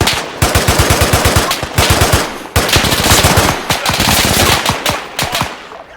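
Rapid automatic gunfire from the Arma 3 Spearhead 1944 mod in a Second World War battle, loud and close, with dense bursts of shots running almost without a break through the whole stretch.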